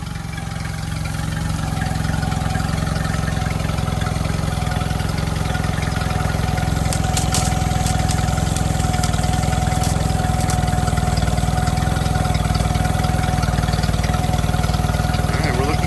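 A Yamaha outboard motor starts and then idles with a steady mid-pitched hum and rumble that rises early and holds through the clip, with a few faint clicks partway.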